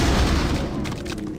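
A grenade explosion in the video game Doom 3: a loud, deep booming blast that rumbles on with a dense low roar through the whole moment, no voices over it.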